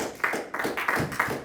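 A church congregation claps together during a sermon, a short burst of scattered, fairly soft hand claps with uneven rhythm heard from across the room.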